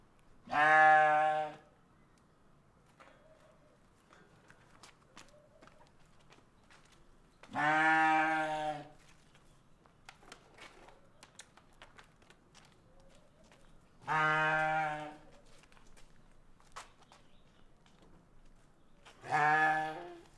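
Sheep bleating in four separate long, loud calls spaced several seconds apart, with quiet farmyard background and faint footsteps between them.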